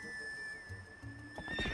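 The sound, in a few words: horse neighing and galloping up, Zelda Twilight Princess video game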